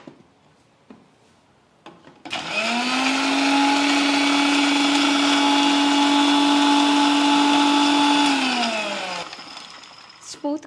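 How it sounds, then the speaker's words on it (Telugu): An electric mixer grinder grinds fried oats and nuts, its motor whining up sharply, holding a loud, steady high-pitched drone for about seven seconds, then winding down, with quieter handling sounds before and after. "ఓట్స్ ఫ్రై చేసినవి ఫస్ట్ మిక్సీకి వేస్తున్నాం"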